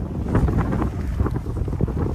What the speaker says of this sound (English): it is so windy, dude. There's probably so much wind noise.